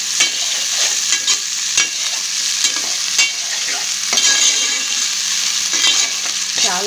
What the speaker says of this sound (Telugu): ఇందులో అల్లం వెల్లుల్లి దంచి పెట్టుకున్నాం కదా, అది కూడా వేసుకుని కలుపుకోవాలి.